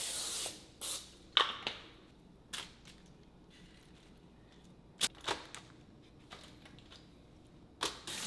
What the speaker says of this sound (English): Quick little spray of Pam